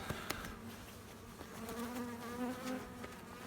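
Faint buzzing of honeybees droning close by at a log hive, a wavering hum with a few soft taps in the background.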